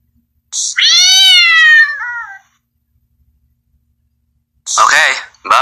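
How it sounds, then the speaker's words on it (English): A cat gives a long, clear, rising-and-falling meow close by, followed after a pause by a second shorter meow, with nothing else audible between them. "Was that a cat?"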